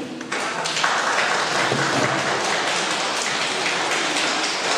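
A kindergarten audience claps through a performance for Grandma and Grandpa Day in Nowe, steady dense applause from many hands filling the room, loud and continuous.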